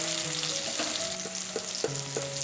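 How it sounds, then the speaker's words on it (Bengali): Potatoes lightly frying in oil with tomato in a pan give a steady moderate sizzle, broken by several soft stirring knocks and scrapes. "আলুটা আমার হালকা ফ্রাই হয়ে এসেছে"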